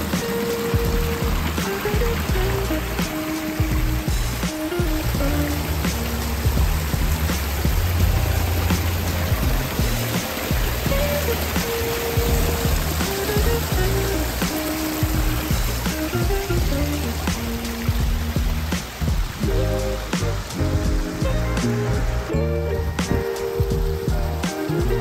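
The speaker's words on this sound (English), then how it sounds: "I love this waterfall." Water splashing steadily down a garden pond waterfall built against a paver wall, in a display garden pond stocked with goldfish and koi, a continuous close rushing wash with music playing throughout.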